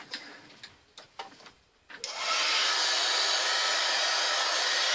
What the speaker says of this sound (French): Alors je vais essayer de m'éloigner de la tablette pour faire mon pistolet à chaleur.